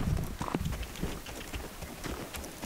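Faint, steady clip-clop of horse hooves on a hard surface, a continuous walking rhythm in the distance with light background noise.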